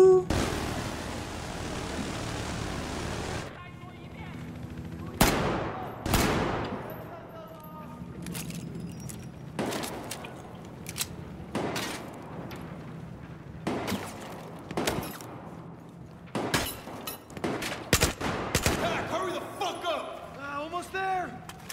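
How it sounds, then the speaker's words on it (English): Battlefield 4 gunfire during a helicopter attack: a long spray of shots opens, then sharp separate reports and bursts ring out at irregular intervals, some loud and close, with voices talking over parts of it. "gua ditembaki"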